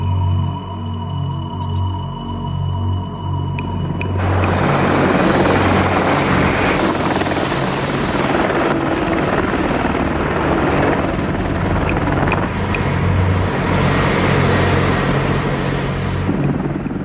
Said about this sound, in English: This helicopter can operate much lower than any plane.